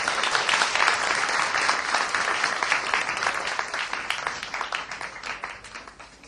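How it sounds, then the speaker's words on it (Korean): Audience applause welcoming a speaker at an academic conference, steady dense clapping from a crowd that holds strong throughout and gradually thins toward the end. "우리 모두 박수로 크게 환영하겠습니다."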